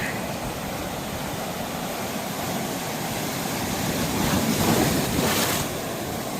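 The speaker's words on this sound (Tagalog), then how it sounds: "sunod-sunod kasi ang alon" Ocean waves at Akumal, Mexico, wash in one after another, a steady broadband roar of surf with wind noise on the microphone, swelling slightly near the end.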